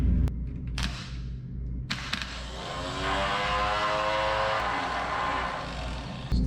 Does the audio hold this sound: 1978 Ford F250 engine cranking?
yes